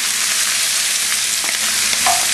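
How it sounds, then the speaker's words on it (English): Onions sautéing in rendered gribenes fat for kasha produce a loud, close, continuous sizzle that holds steady throughout, with faint stirring clicks and no talking. "So now we're going to saute some onions."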